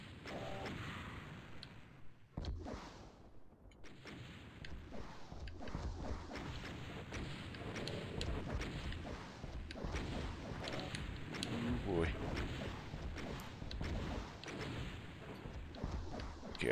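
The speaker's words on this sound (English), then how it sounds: "I just gotta dodge his rockets." Cyberdemon in the Doom video game launching rockets, with repeated booming blasts and explosions over a dense, rumbling game soundscape that carries on for about seventeen seconds.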